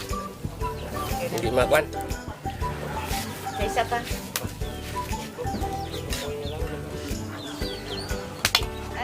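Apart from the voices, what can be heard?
chicken clucking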